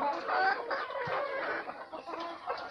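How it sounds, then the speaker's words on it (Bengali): Native deshi chickens clucking on a farm, several birds making overlapping clucks and short calls at close range, steady and fairly loud with no talk. "এটা আমার দেশি মুরগির ফার্ম, এখানে দেশি মুরগি আছে"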